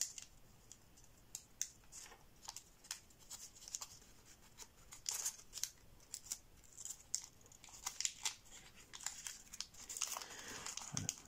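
Origami paper for a sperm whale model is folded and creased by hand, giving a close run of crisp crinkles, sharp snaps and rustles in irregular bursts, with no voices.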